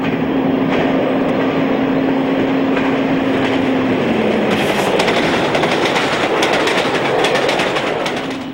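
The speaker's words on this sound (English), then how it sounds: "Number 9, Elistidon, powers south through Bawtry with the 755 from Edinburgh in April" Class 55 Deltic locomotive No. 9 powering south through Bawtry with a passenger train from Edinburgh in 1976, a loud continuous roar with a steady engine tone and rhythmic wheel clatter building as it passes close by.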